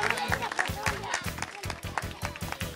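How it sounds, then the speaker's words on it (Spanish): Audience at a children's crafts camp applauds, rhythmic clapping in even, steady beats mixed with crowd noise and a voice talking over it. "Fuerte aplauso para ellos."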